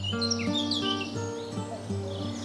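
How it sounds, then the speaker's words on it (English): Cuckoo and blackcaps calling at a wetland bird reserve, RSPB Fairburn Ings: continuous bright chirps and warbling songs overlap, with a steady repeated call in the background, moderately loud and alone without talk. "the cuckoo is still making lots of noise behind me"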